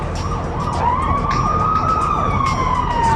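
A loud Mexican Federal Police siren rises and holds its pitch, wailing up close over the roar of a moving vehicle.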